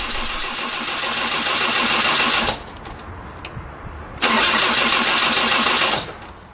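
A Land Rover 200tdi/300tdi diesel engine with a stop solenoid fault cranks loudly for about two seconds, pauses, then cranks again for nearly two seconds without firing, close by and with no voices.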